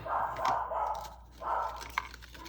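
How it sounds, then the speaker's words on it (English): A dog barks in a house, giving a few loud barks in two bursts with a short yelp between them and no talk over it. "There goes my dog."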